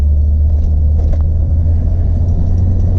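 Heavy low engine rumble from a car on a drive, a constant loud droning hum with steady road noise and no clear revving, close and continuous with nobody speaking.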